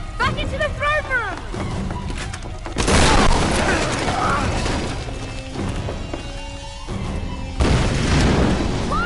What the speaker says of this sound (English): That explosion pushed me out cover.